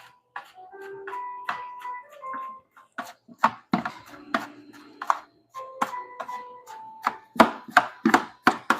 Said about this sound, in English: You just want to cut it like this.